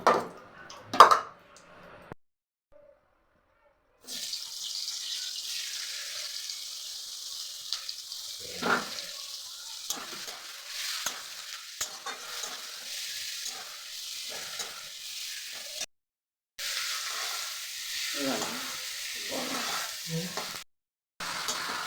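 Potatoes fry in a pan, browned until reddish, with a steady sizzle broken by short gaps and occasional louder stirs and scrapes; no one talks.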